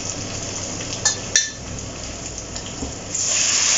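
Pork and potatoes dusted with sweet paprika are stirred in a pan, giving a steady sizzle with a couple of sharp utensil clinks against the metal and a rising hiss near the end.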